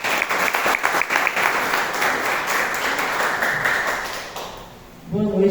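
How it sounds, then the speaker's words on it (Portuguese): A church congregation gives warm applause to welcome nurse Adriana, steady clapping that fades out before a voice starts speaking at the end. "Vamos receber a nossa enfermeira Adriana com palmas para Jesus."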